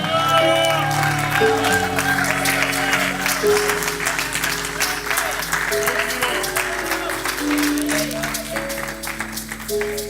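A church congregation claps and cheers during a worship service, steady, dense applause filling the whole stretch over sustained music tones and scattered voices.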